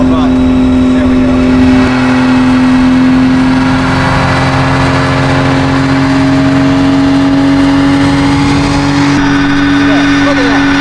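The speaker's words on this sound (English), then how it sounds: "That's a good burnout." A car doing a burnout holds its engine at a smooth, steady high rev near 5,400 rpm, a loud sustained drone with tire roar underneath, close and continuous throughout.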